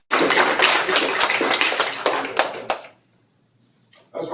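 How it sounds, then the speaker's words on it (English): Audience applause at a school district board meeting: a burst of close, dense hand clapping that fades out after about three seconds, followed by quiet and then a brief noise. "Give him a round of applause."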